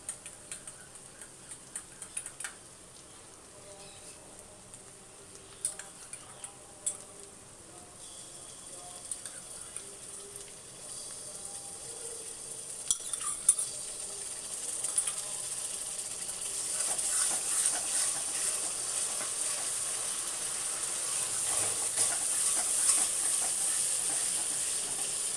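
Masala with sour yogurt for a chicken curry sizzles as it is stirred and fried in a pan: a soft, steady hiss with scattered light ticks and clicks, swelling louder and brighter toward the end, with no talking.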